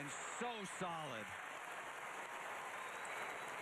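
Chinese teammates applauding a balance beam routine at the 2011 World Gymnastics Championships, a steady wash of clapping throughout, partly under a voice singing or calling out at the start.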